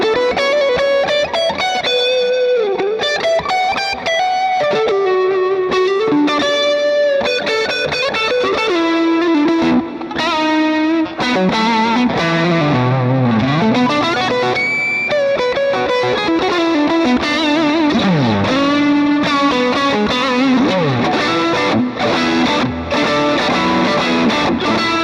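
Electric guitar played through an Axe-FX 3 patch with overdriven, bluesy tone and chorus-like effects, a loud, continuous run of sustained notes, bends and chords with no talking.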